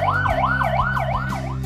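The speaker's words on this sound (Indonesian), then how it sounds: "namun sekarang sudah ada sirine dari mobil pemadam kebakaran" A fire engine siren wails in a steady, rapidly repeating rising-and-falling pattern, loud and continuous over a low engine rumble.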